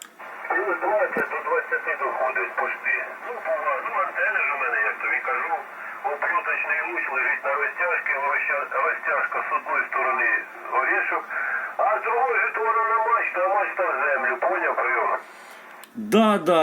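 Speech comes through an analog amateur radio transceiver, band-limited and tinny, with steady received voice filling the clip before a brief burst of noise near the end.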